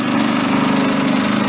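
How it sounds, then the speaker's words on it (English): A small engine with no muffler or catalytic converter runs loud and close, a steady, raw buzzing drone with an even rough pulse throughout. "That's about as dirty of an engine as you can get. There's no muffler, there's no catalytic converter."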